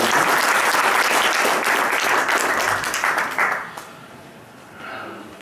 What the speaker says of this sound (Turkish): Büyük bir alkış istiyoruz.